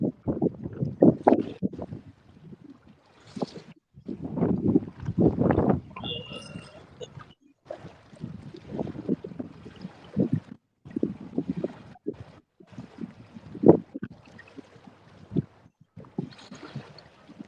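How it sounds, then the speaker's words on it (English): Strong wind gusts buffet the microphone beside a river during winter fishing, rising and dropping in rough surges with short lulls, loud and close. "that wind completely quit for a second, then it come back twice as hard"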